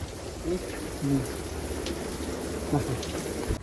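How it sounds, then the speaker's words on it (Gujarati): Heavy rain pours down steadily in a dense hiss, with faint voices murmuring underneath at moments. "ફૂલ વરસાદ આવી ગયો"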